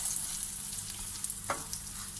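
Sandwich frying in a pan over raised heat, browning to golden: a steady close hiss and crackle of oil runs throughout, with a brief louder sizzle or scrape partway, and no talk.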